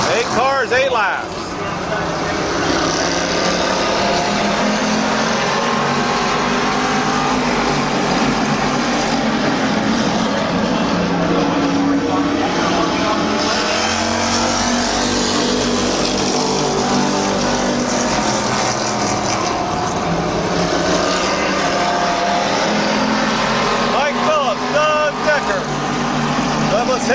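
Stock cars running an eight-car, eight-lap race at Midvale Speedway, a steady loud engine roar that swells and fades as the pack circles, with an announcer talking over it throughout.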